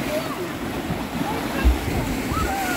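Sea waves break and wash continuously along a Croatian shore at sunset, a broad steady rush with a brief heavier surge partway through, fairly close.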